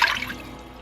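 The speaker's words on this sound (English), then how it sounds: "I've got my trivet in there, and I'm gonna add my 1 cup of water." A cup of water poured into an Instant Pot over a trivet, heard as a short close trickle that fades quickly into quiet room tone.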